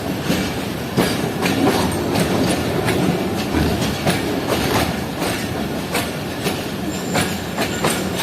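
Passenger train in Pakistan running on rails through rainy countryside en route to Sialkot, a steady loud rumble with repeated clickety-clack wheel beats over the joints throughout, no talking.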